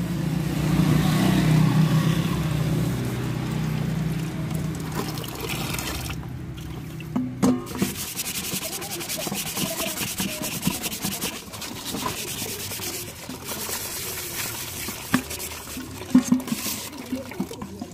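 Sandpaper rubs over a thickly crusted sausage pan, giving steady close scraping strokes, with watery trickling and rinsing sounds blending in as the scrubbing continues.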